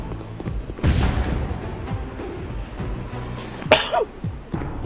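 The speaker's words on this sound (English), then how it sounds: "Excuse me, had a sneeze." A single sharp sneeze bursts out near the microphone after a few seconds of muffled noise and an earlier dull thump, with scattered knocks around it.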